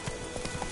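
Hooves of Roach, Geralt's horse in The Witcher 3, clop in a quick galloping rhythm, loud and close. The burst is short, with a few distinct thuds.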